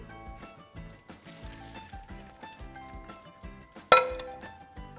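Metal and glassy clinks from a pot as boiled potatoes are drained, with a sharp louder clatter near the end, under quiet background music.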